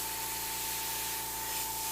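Airbrush test-spraying green paint gives off a steady, close hiss of air and paint, with a faint tonal whine running through it and no talk.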